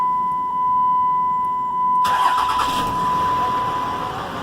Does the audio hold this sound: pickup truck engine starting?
yes